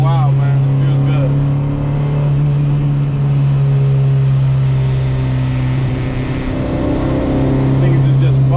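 Honda Civic EG cruising on a highway, a steady loud engine drone with a low tonal hum and road rumble throughout, heard from inside the car with a voice talking over it.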